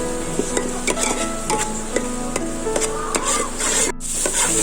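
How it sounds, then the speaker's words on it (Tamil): Green chillies sautéing in a pan for chicken biryani, with a soft sizzle under repeated sharp scrapes and clinks of a metal spoon stirring against the pan at a steady rhythm. "மூணு பச்சை மிளகாயை 2 கீரி போட்டுடலாம். நமக்கு நல்லா வதங்கட்டும்."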